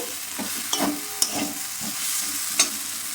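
Spices stirred in hot oil in a pan for a potato and peas curry: a steady sizzle with a few sharp scrapes and clinks of the spoon, close and alone.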